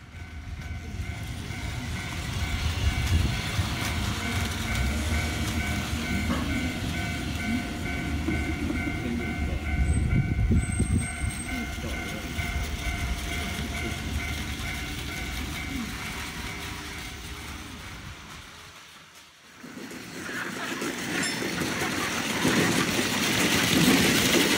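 Plarail toy train running on a model layout of the Keio Line's Higashi-Fuchu station, a steady rolling rattle and motor whir that continues close by, briefly drops away near the end, then resumes.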